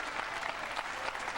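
Bleachers full of spectators cheer and applaud steadily at a 2000 World 9-ball Championship pool match, a dense, continuous wash of clapping with no break.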